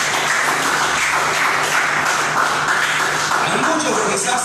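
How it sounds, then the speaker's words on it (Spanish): A church congregation applauding, a continuous wash of clapping and crowd noise filling the room, with voices mixed in underneath. "Dale un fuerte aplauso al Señor"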